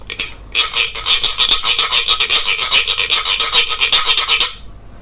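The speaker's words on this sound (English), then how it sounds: "is called the gyro." A guiro is scraped in a fast, even run of ratchety rasping strokes for about four seconds, close and loud, ending abruptly with no talking.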